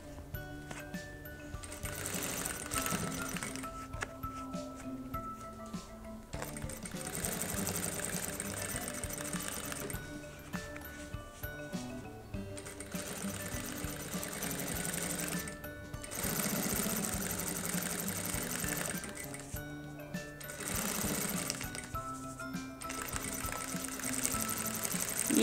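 A sewing machine stitches a bag lining, including backstitching, with a continuous close mechanical whirring rattle that speeds and slows in long runs separated by a few brief pauses, and no speech.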